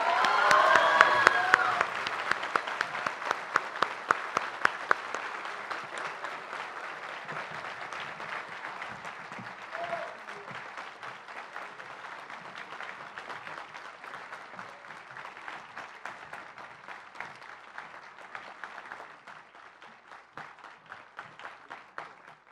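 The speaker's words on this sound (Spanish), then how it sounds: "un fuerte aplauso, por favor" Long, sustained applause fills a hall as an audience honors an award winner at a ceremony for the Ing. Bernardo Quintana Arrioja medal, strong at first and gradually thinning as it goes on.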